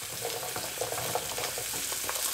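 Onions and carrots frying in meatloaf pan juices on the hob, a steady close sizzle with soft crackles and a few light knocks of stirring, fairly quiet and with no voices.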